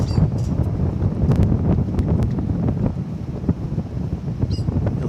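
Strong wind blusters across the microphone at an open airfield, a loud, rough rumble that surges and gusts unevenly, with no talk over it.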